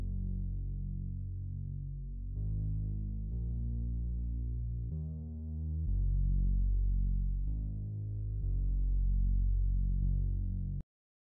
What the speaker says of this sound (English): the next thing I added was like a low synth